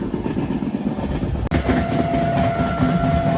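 A passenger train on the Visakhapatnam to Araku line runs toward Kottavalasa junction, a loud steady rumble and rattle heard from inside the coach, with one brief sharp clack midway.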